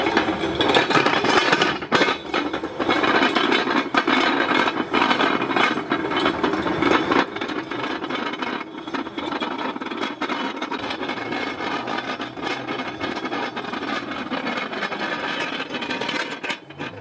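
Weighted sled dragged along the ground during a glute-focused workout, a continuous loud scraping and grinding rasp with slight rhythmic pulses from each step, steady throughout and close with no talk.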